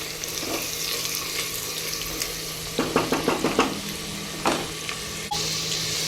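Onions frying in oil in a home kitchen pan for a goat head curry, turmeric just added, give a steady close sizzle with a quick run of spoon clacks and scrapes partway through.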